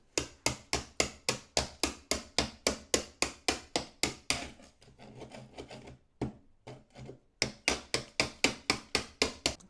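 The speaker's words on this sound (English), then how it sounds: "So I'm going to stop banging on the floor because I don't want to upset the neighbours." A cheap chisel is hammered into floor tiles to break them up: a steady, fast series of loud, close knocks, dozens in a row, pausing briefly for some scraping before the rhythmic pounding resumes.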